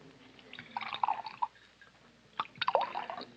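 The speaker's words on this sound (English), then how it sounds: "Yeah, I'll pour yours, Doc." A drink poured from a bottle into glasses at a bar: faint liquid splashes and trickling in two short bursts separated by a quieter gap, heard close against low background hum.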